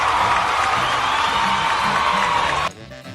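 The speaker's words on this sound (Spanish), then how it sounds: "Bea, pues este aplauso es para ti." An audience applauds and cheers for Bea at a science award presentation, a loud dense crowd roar with whoops that cuts off abruptly near the end, followed by quieter room noise.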